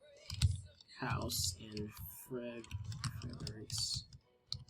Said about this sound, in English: Let's go over and type that in.